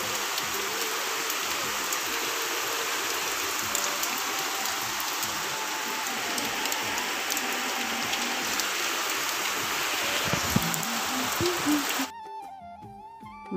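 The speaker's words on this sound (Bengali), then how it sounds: "আজকে জন্মাষ্টমী দিনে কত বৃষ্টি হচ্ছে বাবরে" Heavy rain falling steadily on Janmashtami, a dense continuous hiss with spattering drops on surfaces that lasts most of the time before cutting off near the end, no voices.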